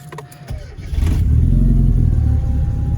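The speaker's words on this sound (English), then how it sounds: "because of that exhaust, it is don't know if you can hear that" A 1997 Mini Cooper project car with a loud aftermarket exhaust rumbles up from idle into a sustained, deep, steady drone after about a second, close and heavy. A faint voice is briefly audible early on.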